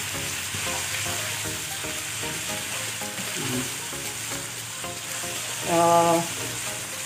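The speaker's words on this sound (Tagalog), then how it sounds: "hintayin lang natin mag-brown itong sukiyaki." Beef sukiyaki cut browns in a pan with a continuous close sizzle and frying crackle, a brief stir or clatter breaking in near the end, and a voice speaks once briefly.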